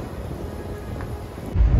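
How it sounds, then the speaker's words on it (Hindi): Rain pours down outdoors with a low rumble of thunder beneath it, a steady broadband wash that swells louder in the final moments. "बारिश आ गई"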